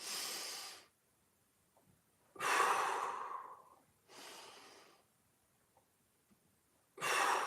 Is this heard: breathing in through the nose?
yes